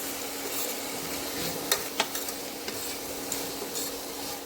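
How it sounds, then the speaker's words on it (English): Ginger garlic paste sautéing in a pan while making brinji rice, a steady soft sizzle with a couple of sharp clicks of a spoon against the pan midway, close and fairly quiet, no talking. "Let's saute them for a while."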